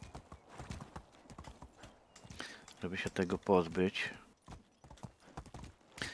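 Horse hooves clip-clopping in the video game Medieval Dynasty, a steady run of hoof beats with a whinny in the middle, under someone talking.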